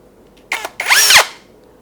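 A power drill fitted with a bit bores a hole for mounting a PZEM-028 AC digital meter: a short spin-up burst, a pause, then a louder whining run with pitch rising and falling before it stops.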